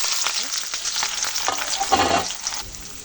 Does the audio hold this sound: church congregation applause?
no